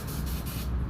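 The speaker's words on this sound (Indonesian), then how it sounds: "lalu kita semprot" Petrol hisses in one short, steady, close spray onto a CVT part of a Vario 150 scooter during servicing.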